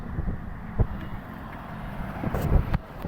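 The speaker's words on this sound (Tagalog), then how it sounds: "Ang lakas ng hangin dito, presko." Strong wind buffeting outdoors, a steady low rumble across the microphone with a few louder gusts and thumps, moderately loud and continuous, no one speaking.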